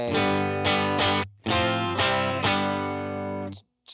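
Distorted electric guitar through a UA Dream 65 amp in lead mode playing sustained chords, several strums with brief gaps, loud and saturated with a slightly smoothed, less scooped tone, no voices.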